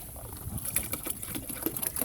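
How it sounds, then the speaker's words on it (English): Water is poured into a Kratky hydroponic garden reservoir, giving a faint continuous trickle with small splashes close by. "Every day I fill this reservoir up with a gallon of water."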